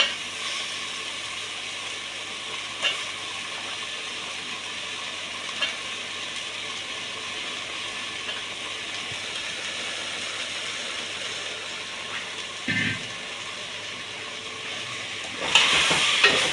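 Brinjal, carrot and potato sautéing in a pan for sambar, a soft steady sizzle running throughout with occasional scrapes and clinks of a spoon stirring, ending in a louder clatter, with no talking.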